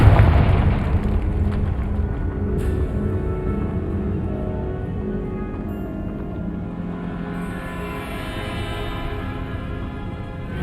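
A Confringo explosion spell in Hogwarts Legacy, a loud booming blast at the start that decays into a long, rumbling, gradually fading tail with shimmering magical overtones, no voices.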